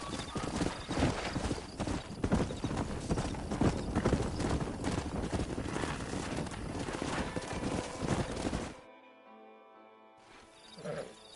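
Rapid hoofbeats of a galloping horse in a video game, loud and close, with a whinny, then a sudden drop to quieter sound near the end.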